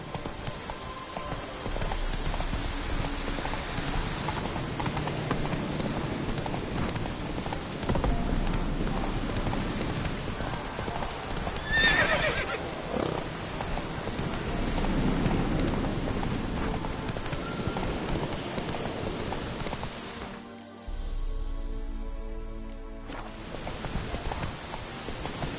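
Roach, the horse in The Witcher 3, gallops with steady, rhythmic hoofbeats, a brief whinny rising near the middle and a short pause before the clip-clop resumes, all without voices.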